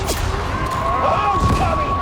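Cannon gunfire in the Warhammer 40K Darktide video game, heavy continuous booming shots in a busy battle mix with voices talking over it.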